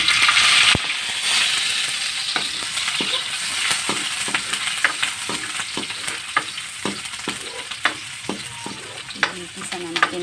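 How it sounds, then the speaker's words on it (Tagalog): Ingredients for ginataang talong sauté in a hot pan with a continuous sizzle, while a spatula stirs and scrapes in irregular knocks and clatters close up. No one talks. "Gigisa na natin guys."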